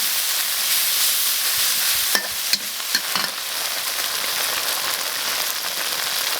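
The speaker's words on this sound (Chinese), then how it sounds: "再给它炒一下。" Pixian chili bean paste and fermented black beans are stir-fried in a hot wok, making a loud, dense, continuous sizzle with a few sharp spatula clanks near the middle and no voices.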